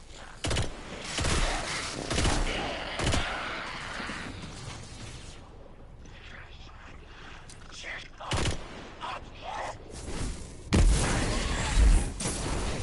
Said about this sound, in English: Just trying to be doing some headshots there with my pulse rifle.